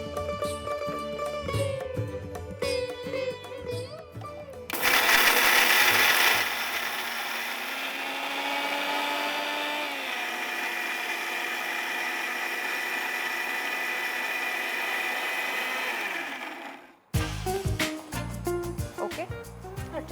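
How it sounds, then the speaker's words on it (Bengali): A mixer grinder whirs through spice paste for a Sri Lankan pomfret masala, running loud and steady for about twelve seconds and then stopping abruptly, with speech and music before and after. "এর এবার এটা মধ্যে পিষে নেবো"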